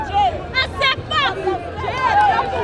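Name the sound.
crowd and team bench cheering at a netball game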